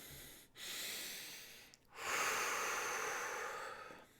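Two long, deep breaths in a quiet room, one slow inhale then a longer, louder exhale, each airy and close with a short gap between.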